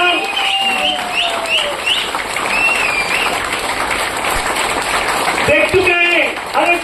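Audience at a live event in India applauding steadily, a dense wash of clapping that fills the whole stretch, with scattered voices and whistle-like calls riding on top.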